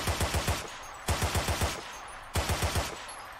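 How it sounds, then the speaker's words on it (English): Video game automatic gunfire in three short bursts of about four to five rapid shots each, loud and close with no talking. "it's way better now to shoot in short bursts, like in real life"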